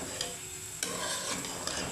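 Mutton for aloo gosht sizzling steadily in a pan while a spoon scrapes and stirs it, a continuous close frying hiss broken by occasional stirring knocks.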